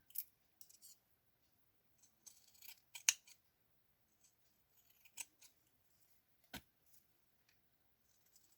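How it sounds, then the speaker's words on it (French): Pinking scissors snip through paper in a quiet craft session, a handful of sharp, crisp cuts spaced irregularly, close and fairly faint, with pauses between them. "je vais prendre mes ciseaux cranteurs"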